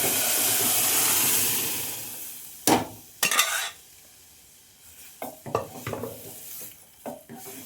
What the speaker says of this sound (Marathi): त्याच्यामध्ये फोडणी देते बघू शकता.